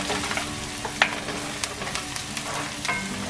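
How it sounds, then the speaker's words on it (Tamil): Curry leaves sauté in hot oil in a pan while potato and shrimp bonda is prepared, with a soft, constant sizzle and the occasional light scrape of stirring. "கருவேப்பிலை இதை நாங்கள் கொஞ்சம் வதங்க விடுவோம்."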